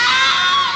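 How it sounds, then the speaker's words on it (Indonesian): A woman lets out a loud, high-pitched scream as a horror audiobook sound effect, one shrill sustained cry under a second long that fades slightly at the end, with no other sound. "Alma menjerit"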